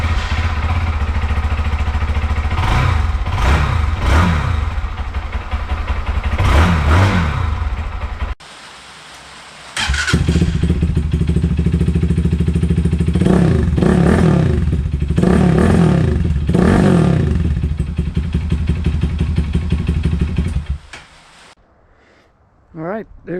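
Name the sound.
KPR200 motorcycle engine revving with upgraded exhaust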